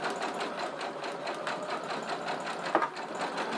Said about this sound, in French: Je suis en place pour coudre le premier angle.